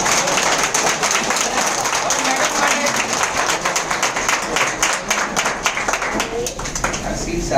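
Loud, dense audience clapping at an indoor gathering, steady and continuous for several seconds before thinning slightly toward the end.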